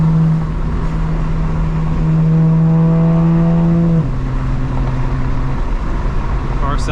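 A 2025 BMW M4 Competition engine drones steadily from inside the car while cruising on a highway, its pitch holding, then dropping at a gearshift midway. The sound is loud and continuous, with a brief chirp near the end.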